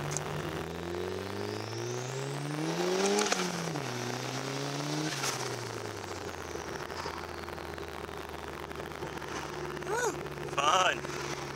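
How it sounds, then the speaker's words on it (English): A turbocharged Honda Accord accelerates hard through the gears, its engine note rising in a near, steady pull with a shift midway, then settling to a lower drone under a brief voice. "get on the main road, I'll give you guys a small little pull"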